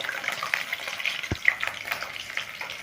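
Native ivy gourd (kovakkai) frying in a pan gives a steady, close hiss of oil, with scattered small pops and a faint stirring scrape, with no one speaking.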